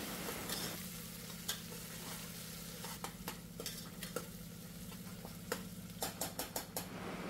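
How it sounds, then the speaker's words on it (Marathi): Onion and tomato sauté in oil in a pan, a soft steady sizzle broken by sporadic scraping stirs, close but quiet, with a low hum beneath and no talk. "आता हे चांगलं परतून घेते, कांदा टोमॅटो चांगला शिजवून घेणार आहे तेलामध्ये"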